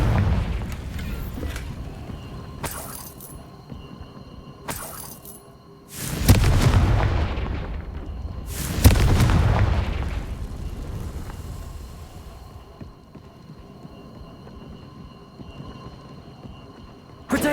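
Confringo spell explosions in Hogwarts Legacy, two heavy booming blasts that roar and fade over several seconds, with a few short sharp bursts and quieter ambience between them.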